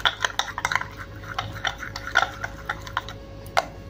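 A spoon stirs and scrapes a banana and dry milk powder face mask in a bowl, giving close, light clicks and taps in an irregular run against a quiet background hum.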